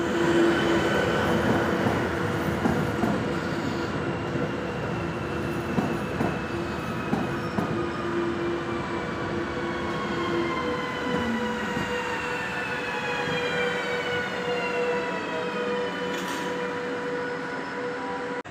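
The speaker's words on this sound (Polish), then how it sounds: "Wjeżdża opóźniony około 20 minut pociąg ekspres Tatran relacji Kosice Bratisława Chlewna Stanica." A delayed Tatran express from Košice to Bratislava rolls into a station with a long, steady rumble, wheels squealing in rising and falling tones as it slows.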